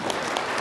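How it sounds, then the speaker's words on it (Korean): Audience at a church gathering applauding, a steady dense clapping throughout a brief burst, fairly loud and without voices. "박수 한번 하십시다."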